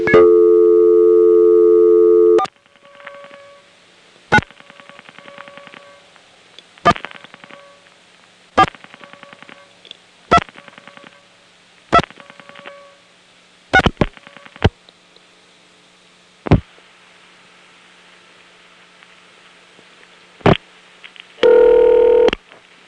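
A 1977 telephone call routed from a Tucker ESS through a crossbar PBX: a steady tone at the start, then a long quiet pause broken by sharp clicks, and another burst of tone at the very end.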